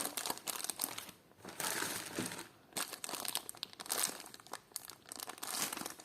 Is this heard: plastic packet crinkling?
yes